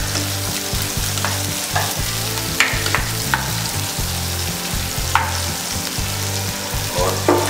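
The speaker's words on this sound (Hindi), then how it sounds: "और इस जीरा में डालेंगे हम एक पतली कटी हुई प्याज" Thinly sliced onion frying in oil with cumin for Bombay tawa pulao, a steady close sizzle with occasional scrapes and stirring clinks, no talking.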